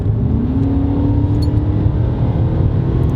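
A Nissan Cima with an automatic transmission accelerating, heard from inside as a steady loud engine drone with a rising tone partway through, under a smooth road roar and without talk.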